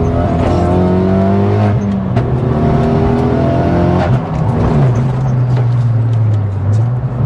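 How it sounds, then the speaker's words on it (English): A modified Renault Megane RS track car revs hard through the gears to the rev limiter, close up, with sharp pops and bangs from the exhaust between the pulls. "It's popping and banging."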